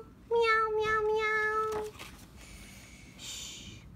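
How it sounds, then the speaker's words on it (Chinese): A cat gives one long, clear, close meow, followed by softer breathy sounds and quiet room noise. "小猫也要等小娃娃醒来了再高兴的叫喵喵喵喵喵喵"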